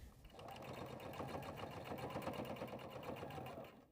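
A sewing machine runs a steady top stitch through fabric for a sling, a fast even mechanical whir that holds at constant speed and slows at the end, close and alone.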